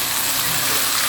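Chopped tomatoes dropped into a hot frying pan for egg sauce, giving a steady, close broadband sizzle with no talk.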